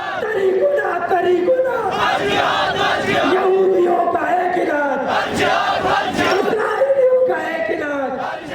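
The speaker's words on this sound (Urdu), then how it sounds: "شرکاء نے فلسطینیوں سے اظہار یکجہتی کے لیے نعرے بھی لگائے" A large crowd at a Palestine solidarity rally shouts slogans in unison, loud, rhythmic call-and-response chanting that carries on throughout.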